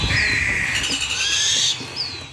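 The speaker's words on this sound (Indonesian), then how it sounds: "Cuman 1 ekor burung hantu limbat." Raspy, hissing barn owl screeches repeat close by and loudly, with a few brief knocks and rustles in between.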